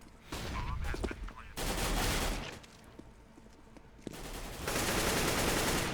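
Bursts of CS:GO gunfire on the Cache map in a competitive match, loud volleys of rapid shots in several clusters with brief lulls between them, and a voice talking faintly underneath.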